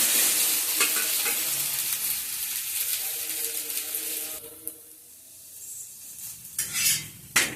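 Adai dosa, a spicy lentil dosa, sizzles on a hot pan after being flipped: a steady, close crackling hiss that drops off sharply about halfway through, followed by a few light scrapes and clinks.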